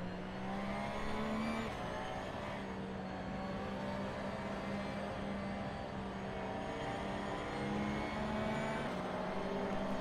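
AI race cars in Assetto Corsa on the Barcelona circuit, engines droning steadily and loudly with sustained harmonic whine as they drive past, no talk over them.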